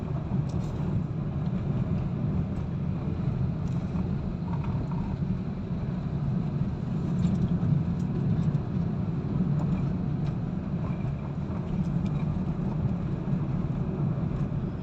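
A Hyundai Accent car engine labors uphill in first, second and third gear, a steady low rumble with road and wind noise that stays constant and fairly loud throughout, with no voices.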